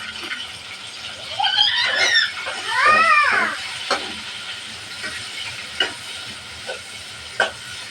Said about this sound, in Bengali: চিংড়ি মাছ ভাজার জন্য দিয়ে দেবো তেল দিয়ে দেবো চিংড়ি মাছ